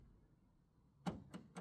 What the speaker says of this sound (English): That was the lock locking itself.